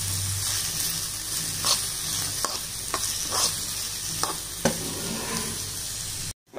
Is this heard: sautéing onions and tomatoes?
yes